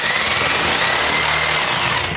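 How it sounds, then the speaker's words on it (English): Reciprocating saw cutting drywall during a tub and shower renovation, a loud, steady, rapid buzzing rasp held close throughout. "I'm gonna cut 8 feet of drywall now with a reciprocator."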